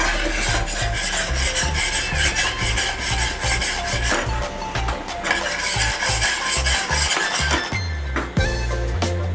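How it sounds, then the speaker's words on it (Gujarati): A spoon scrapes and rubs steadily around a pan as milk is stirred into roasting gram flour for besan halwa, a continuous loud gritty rasp with occasional clinks of metal. "હજી આપણે આમાં 1/2 કપ જેટલું દૂધ નાખશું."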